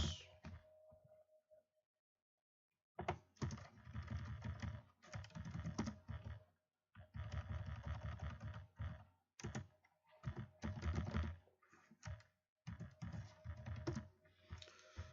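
Someone types a chart title on a computer keyboard, brisk close bursts of key clicks separated by short pauses, quiet overall with no speech.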